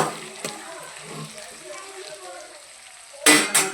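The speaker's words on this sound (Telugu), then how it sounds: "టమాటాలు వేసుకొని కలుపుకోవాలి." Chopped tomatoes sizzle and frying in a pan as they are stirred, with soft scraping through the middle and two louder bursts of sizzle near the end.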